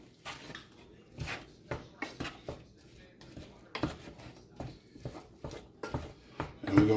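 A spoon stirs pizza sauce seasoned with oregano and basil in a pot, faint irregular clinks and scrapes against the metal scattered over several seconds, low and close in a quiet kitchen.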